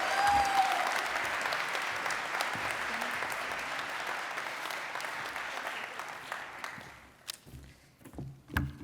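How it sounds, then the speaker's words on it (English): Warm audience applause fills a conference hall at the NCECA conference, sustained and dense for several seconds before thinning out and fading into a few scattered claps and taps. "Let's give a round of applause for Marissa."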